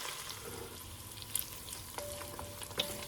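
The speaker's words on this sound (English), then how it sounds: "We'll let it cook for a minute until our butter is melted." Butter melts in a pan before tomato sauce goes in for creamy tomato Parmesan spaghetti, with a soft, quiet sizzle broken by a few light utensil taps and clicks.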